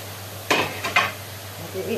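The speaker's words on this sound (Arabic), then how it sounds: "هنزل بقى بالبصل الاول كده" Onions sauté in oil in a pan while a spoon scrapes and knocks against it, a few close clattering strokes over a faint sizzle.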